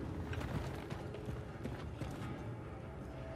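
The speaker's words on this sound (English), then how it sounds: "I hear footsteps to the left." Footsteps of an enemy in the shooter Wolfenstein II: The New Colossus: a steady patter of quick steps over a continuous low game ambience, moderately near, with no talking.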